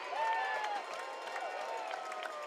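Crowd noise fills the stands at a Bend Elks baseball game against the Kelowna Falcons, a steady murmur with scattered cheers over faint tonal music, moderately loud and continuous.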